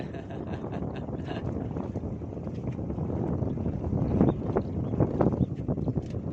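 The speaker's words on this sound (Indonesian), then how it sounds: "Karena anginnya katanya nggak tahan, terlalu kencang." Strong wind buffeting the microphone during freshwater fishing at Cirata reservoir, a continuous rough low roar that builds and gusts louder toward the middle, with faint background sounds and no clear talk.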